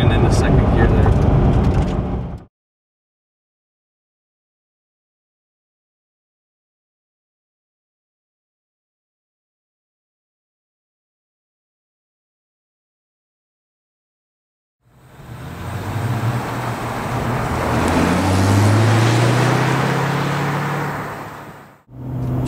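A stock, nearly new Chevrolet Corvette Z06 accelerates on back roads as it shifts into second gear, its engine rising and building loudly near the end after a long stretch of silence, with a voice heard at the start.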